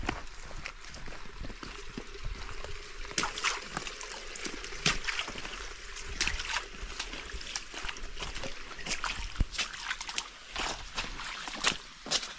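A stream flows and trickles steadily nearby, its water sloshing and splashing in irregular bursts over a continuous rushing hiss, with no voices heard.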